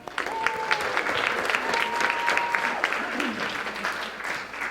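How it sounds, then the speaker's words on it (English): Loud, sustained applause from a crowd, many hands clapping continuously with a few whistles mixed in. "they're clapping so loud"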